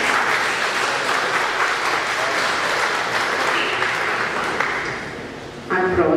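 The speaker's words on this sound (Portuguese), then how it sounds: "Vamos dar uma salva de palmas." Audience applause at the opening and tribute ceremony of a national sports science symposium, sustained even clapping from a crowd that tapers off near the end as a voice begins to speak.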